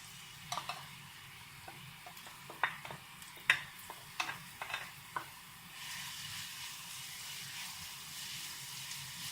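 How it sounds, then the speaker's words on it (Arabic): Onions frying in oil in a pan for Iraqi oil dolma: a spoon clicks and scrapes in a few sharp taps, then a soft, steady sizzle takes over close by with no talking. "هسه راح اخلي البصل عندي هنا اقليه شويه"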